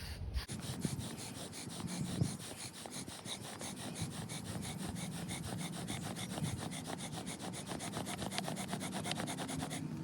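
Rapid rhythmic rasping of a bow drill spindle rubbing on a wooden fireboard, quick regular back-and-forth strokes continuing steadily throughout, close and fairly quiet, as someone works for an ember with a damp set.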